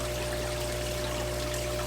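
Steady water flow from a propeller current maker in a fish tank, a continuous close rushing and trickling wash with a faint mechanical hum beneath, no voices.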